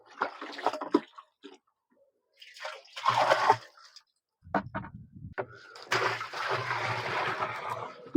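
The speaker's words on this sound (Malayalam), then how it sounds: "ഇനി ഞാൻ 5 ലിറ്റർ ഗോമൂത്രമാണ് ഈ ഒഴിച്ചുകൊണ്ടിരിക്കുന്നത്" Cow urine is poured in close, splashing bursts, separated by short pauses, into a container already holding cow dung slurry for an organic soil mix, five litres in all.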